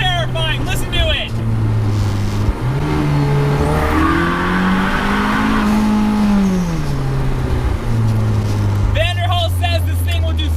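A 2020 Vanderhall Carmel three-wheeler's 194-horsepower engine roars loud and close, its pitch climbing and falling through revs and gear changes, with a sustained low drone beneath.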